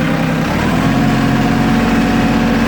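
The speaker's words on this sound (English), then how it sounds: "just giving it a little rev on the throttle." An LS tractor engine runs loud and close with a steady, heavy rumble while the gears are shifted down, holding an even drone throughout with no voices.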